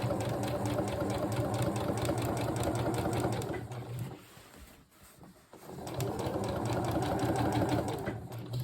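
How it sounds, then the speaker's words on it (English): A sewing machine stitches through a single layer of coat fabric along a neck edge, a rapid rhythmic whirring that pauses briefly midway before starting up again, close and clear. "we're just simply stitching through one layer of fabric along the neck edges"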